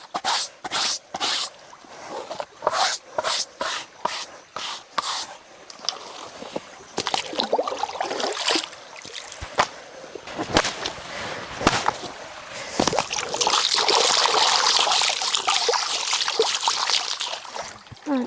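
A soiled doormat is dunked and rinsed in water. Irregular slaps and splashes come first, then a longer stretch of sloshing, rushing water, all heard close by.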